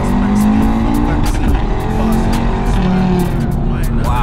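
A Stage 2 Audi RS3 roars during a night drive, its engine droning loud and close from inside the car, with tire noise and a voice speaking over it.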